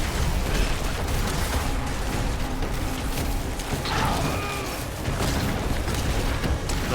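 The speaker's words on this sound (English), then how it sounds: "Bloody explosions." Rolling booms and crashing blasts from spell explosions in a Diablo 4 Sorcerer battle, a steady loud wash of detonations with no talking.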